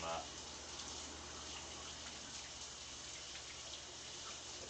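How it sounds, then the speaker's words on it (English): Running tap water pours steadily over a batch of potatoes being rinsed in a home kitchen, a constant moderate splashing hiss that lasts throughout without any talk. "I'm just going to give all of them a rinse"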